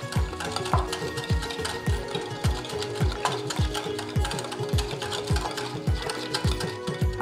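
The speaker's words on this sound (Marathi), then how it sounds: "आता आपण हे छान बीट करून घेऊयात." Sugar, curd and milk being beaten for a mango cake batter, with a steady, rapid rhythmic whisking clatter against the bowl, continuous and close, with no talk.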